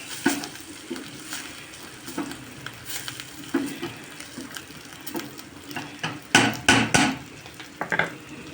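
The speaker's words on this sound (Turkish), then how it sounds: "Pirincim kavruldu suyunu veriyorum." Water meets toasted rice in an open pot for pilaf, giving a hissing sizzle under steady stirring, with scraping and irregular knocks of the spoon against the pot.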